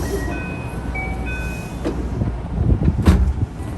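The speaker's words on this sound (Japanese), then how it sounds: "列車は鶴橋駅に到着です。" A JR West 221 series train pulls into Tsuruhashi Station heading toward Tennoji, heard from inside a crowded car as a rolling rumble with rail clatter that builds near the end, with a few faint tonal whines earlier.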